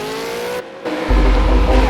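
Supercars race car powering through the final hairpin, engine note loud and close with a brief dip before a heavy rumbling surge of acceleration.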